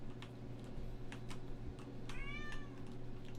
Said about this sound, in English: can you hear my cat yelling? She's very sad.